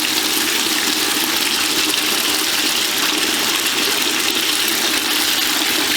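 Steady rushing tap water runs continuously as a measuring spoon is rinsed off during preparation of a beneficial soil bacteria brew, a full, even gush with no pauses and no voices.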